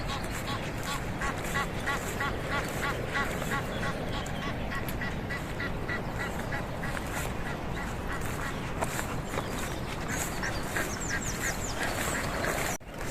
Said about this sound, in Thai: สียงเป็ดน้อย